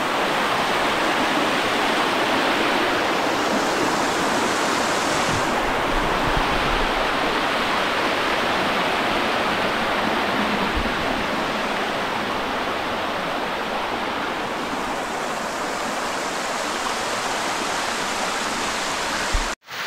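Karugo Falls in Montalban, Rizal roars as a steady, loud wash of falling water, unbroken and dense for the whole stretch with no voices over it.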